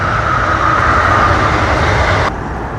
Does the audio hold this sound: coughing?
no